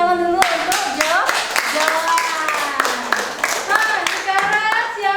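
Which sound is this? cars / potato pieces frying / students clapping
students clapping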